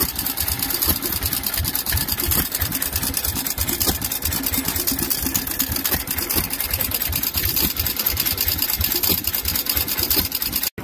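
A stationary engine runs steadily at an outdoor field day engine display, its fast regular chugging beat close and loud throughout with no talk over it.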